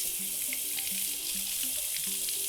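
A tap runs warm water over a homemade popsicle mold, a steady close hiss of flowing water filling the whole stretch, with no voices.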